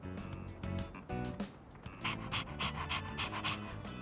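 A dog pants heavily in a video game, steady quick breaths repeating close up throughout with some background game sound.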